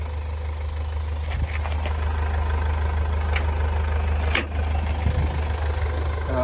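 A 2016 Mercedes V-Class with about 120,000 km on it idles at a steady, low rumble. The engine runs evenly close by, with a few light knocks and clicks scattered over the hum and no talking.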